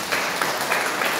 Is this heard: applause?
yes